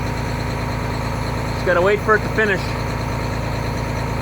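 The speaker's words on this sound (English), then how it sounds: "You can hear the truck just revving up behind me there." A semi truck engine idles steadily during a regen, a constant low rumbling drone close by, while someone speaks briefly over it.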